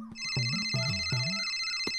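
A phone ringtone plays a short melodic phrase, clear and close, repeating with a steady electronic tone.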